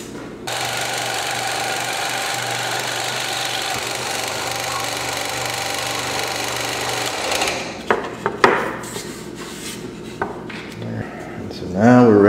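A scroll saw cuts a wooden star outline, a steady high buzzing whine running for about seven seconds before stopping, followed by scattered handling clatter and knocks.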